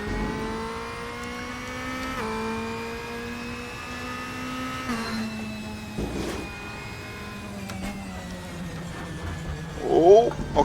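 A DTM race car engine in the RaceRoom Racing Experience game at RaceRoom Raceway hums steadily at high revs, the pitch shifting through gear changes, with a louder burst near the end.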